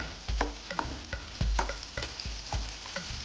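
Grated ginger fries in a pan for broken wheat khichdi, with a steady quiet sizzle broken by a series of sharp scraping stirs and taps of a spoon against the pan.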